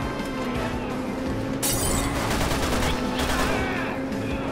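Rapid gunfire bursts crackle in the co-op video game Resident Evil 6, with a sharp shattering crash partway through and dense continuous shooting and game noise close up, no talk heard.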